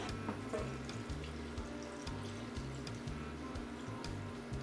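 Low, steady stream of hot water pouring into a pot of oxtail with a faint hiss, quiet and continuous, with some rhythmic background thumping underneath.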